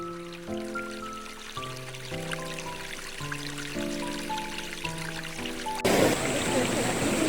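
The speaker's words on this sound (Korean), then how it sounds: "계곡물은 그 바위 사이를 헤집으며 작은 폭포를 만들기도 하고 여울도 만들면서" A mountain valley stream rushes between broad rocks, forming small falls and riffles; a steady, close hiss of flowing water swells loudly near the end, while sustained music plays over most of it.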